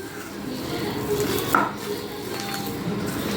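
Clattering and scraping of a spoon stirring a corn filling with cornflour binder in a bowl for corn rolls, a steady close kitchen rattle with one sharper knock midway.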